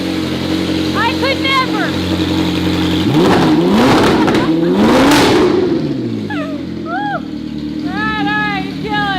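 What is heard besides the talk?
Ferrari F1 exhaust revving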